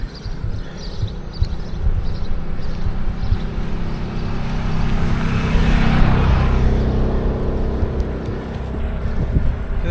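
A four-wheeler ATV rumbles past in a small town, its engine note swelling as it nears and fading away, loud and close, with no voices.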